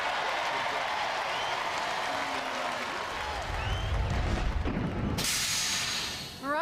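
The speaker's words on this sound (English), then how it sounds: "I think everybody should give you a nice round of applause" An arena crowd applauds the robot combat team, a broad hissing wash of clapping and cheering that swells and then cuts out abruptly near the end, with a brief electronic sound following.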